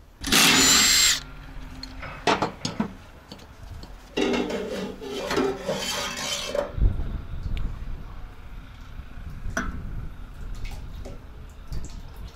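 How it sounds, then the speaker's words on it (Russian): Two bolts being unscrewed on a rusty Hanomag 44d loader during repair, with a loud burst of a power tool followed by ratcheting, metallic clinks and rattles of parts nearby, no talking. "вот открутим два болтика"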